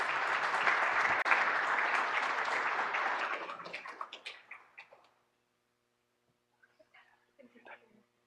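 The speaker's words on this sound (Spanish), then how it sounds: "El aplauso, por favor." Applause at a course-closing ceremony, loud and dense for about four seconds, then thinning into scattered individual claps and fading to near silence, with a few faint sounds near the end.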